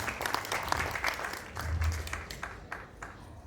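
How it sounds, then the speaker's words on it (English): An audience at a welcome-speech ceremony applauds a guest, a steady wash of many hands clapping at moderate distance, fairly soft and continuous, with a faint voice underneath. "and round of applause for him as well"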